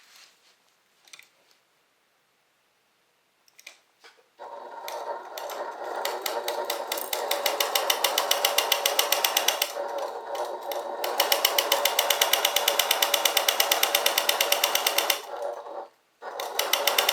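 A sewing machine stitches the bottom seam of a fabric bag, starting after a few faint clicks with a fast, even mechanical chatter that runs steadily, briefly pauses, then resumes close and moderately loud.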